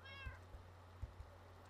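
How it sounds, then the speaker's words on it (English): A black cat in a Minecraft potion shop meows once, short and clear, over a low steady game hum with a few soft thumps. "This black cat from a potion shop."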